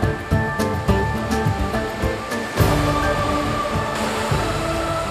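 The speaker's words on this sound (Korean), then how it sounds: "사나운 파도가 넘실거리는 이곳은 콩고강입니다" Rough, surging water of the Congo River roars close by, a loud, continuous rush with repeated swells and crashes.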